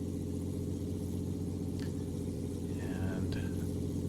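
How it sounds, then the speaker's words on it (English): A Robinson R44 helicopter engine runs at a steady low drone as the rotors begin turning, with a couple of faint brief tones over the constant rumble. "Let's get the rotors rotoring."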